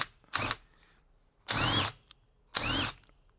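Power drill driving molly bolts into a wall, three short separate whirring bursts, each about a third to half a second, close by with quiet pauses between them.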